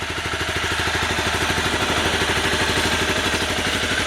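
A 2013 Honda CBR250R motorcycle engine idling, a steady, rapid low pulsing putter with a hissy, even texture, constant and close without talk.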